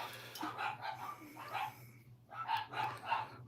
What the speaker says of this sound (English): I do got dogs, so you're going to hear barking.